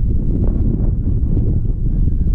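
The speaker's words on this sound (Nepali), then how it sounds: "यस्तो हावा आयो क्या" Wind buffets the microphone outdoors during a review of a KTM Duke 250 BS6 motorcycle, producing a loud, steady low-pitched rumble with no talking.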